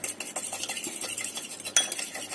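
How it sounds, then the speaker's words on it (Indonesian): A utensil beats two eggs in a bowl in a home kitchen, a rapid, steady clatter of light ticks against the dish, close and continuous without speech. "Kemudian aku gunakan 2 butir telur, kita kocok sampai rata."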